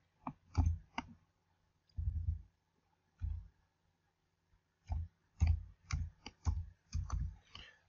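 Mouse clicks on a computer while pressing OK on a website, a series of crisp, close clicks in small clusters separated by brief pauses in an otherwise quiet room.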